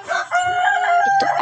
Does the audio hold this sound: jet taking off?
no